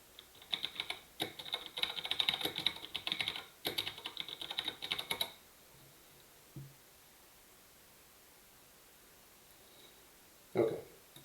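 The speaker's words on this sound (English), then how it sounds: "so now I can start typing" Computer keyboard typing, bursts of quick clicking keystrokes for about five seconds, then near silence with a couple of isolated soft knocks; close and clear with no talking.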